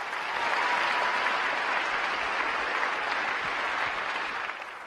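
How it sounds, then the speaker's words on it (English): A crowd applauds at a city's State of the City address, continuous dense clapping that holds steady for several seconds and fades slightly at the end. "One more round of applause."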